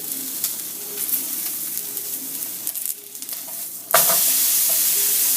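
Steak frying in browned butter over medium heat, a steady close sizzle with light stirring, jumping to a louder, brighter hiss midway as the meat is turned.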